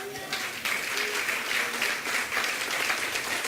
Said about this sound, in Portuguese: Você pode aplaudir Jesus Cristo?